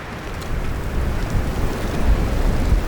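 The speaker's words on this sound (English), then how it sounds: "Listen to the wind." Steady low wind rumbles and buffets outdoors, a dull broadband roar that swells slightly over a few seconds with no voices.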